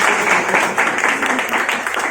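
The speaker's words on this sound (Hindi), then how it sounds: "चलिए जोरदार ताली बजाइए एक सेकंड।" Audience at an Independence Day program at a training centre breaks into steady, close applause, a brief dense patter of many hands clapping at once.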